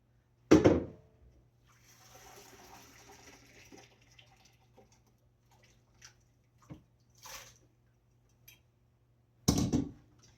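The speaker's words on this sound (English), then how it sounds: "I'm draining the broccoli and throwing it right in my not icy ice bath." Blanched broccoli and its hot water are drained into an ice bath in a kitchen, with a quick splashing pour at the start, faint trickles and drips, then another brief splash near the end.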